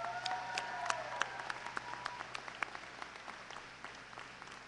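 Audience at a 2015 college commencement applauds graduates with magna cum laude honors, a sustained wash of clapping with sharp individual claps popping out, steady then slowly easing off.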